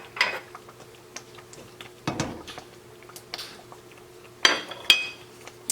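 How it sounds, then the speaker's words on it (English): Spoon clinks and scrapes against a pot while butter and vanilla are stirred into hot chocolate pudding with the heat off, a few scattered soft knocks and one sharper clatter near the end, close and fairly quiet. "And stir that in, and we've turned the heat off."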